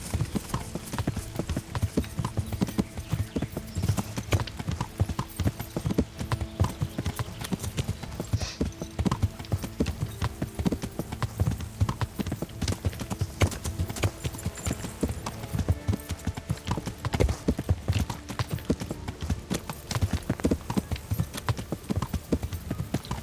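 Steady, continuous clip-clop of horse hooves at a brisk trot in the video game Kingdom Come: Deliverance, sustained throughout over a low background rumble.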